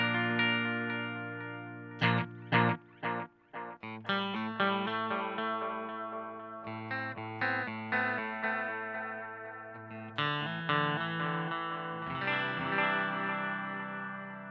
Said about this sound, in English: you can hear that decay in the tape-like sound that makes that characteristically a tape echo